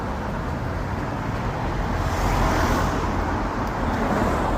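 Steady road traffic heard from inside a car, a dense, continuous low rumble and wash of passing vehicles that swells slightly midway, with no talk.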